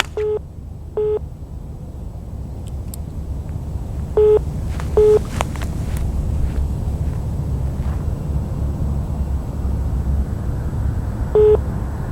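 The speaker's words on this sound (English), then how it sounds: "Sorry, somebody was calling my phone." A phone rings with an incoming call, sounding as short electronic beeps in pairs that recur at uneven gaps over a steady low background hum, with no one talking.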